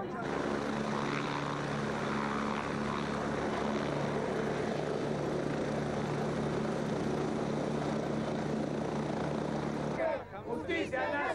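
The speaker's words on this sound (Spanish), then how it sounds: "en este momento sube el helicóptero Vladimiro Montesinos" A National Police helicopter lifts off, its engine and rotor making a steady, loud drone that fills the whole clip before dropping away near the end.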